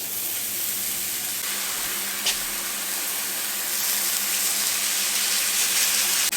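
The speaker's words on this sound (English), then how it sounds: "All we're going to do now is put them in the pan, seasoned side down." Patty melt meat patties sizzle in a frying pan, a loud, steady hiss of frying that grows slightly stronger toward the end, with no voices.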